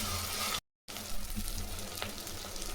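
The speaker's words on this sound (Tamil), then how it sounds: "கொஞ்சம் கறிவேப்பிலை போட்டுக்கலாம். இது நல்லா பச்சை வாசனை போகிற வரையும் வதக்கலாம்." Curry leaves, ginger and garlic sautéing in oil for Chettinad mutton curry, a steady close sizzle that cuts out briefly for a moment, then returns with light crackles.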